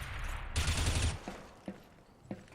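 CS:GO gunfire during a match, a quick burst of several rifle shots followed by a few sharp isolated pops, close and fairly loud against quiet game ambience.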